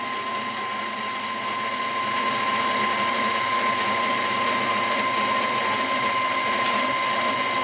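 An electric mixer runs on low speed through a strawberry mix for fresh strawberry mousse, making a steady close whirring hum that grows slightly louder partway through, with no talking.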